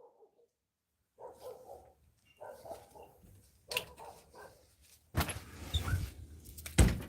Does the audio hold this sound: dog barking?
yes